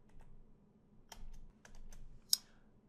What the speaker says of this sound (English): And then let's type in